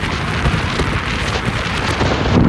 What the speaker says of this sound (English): It is very, very windy here.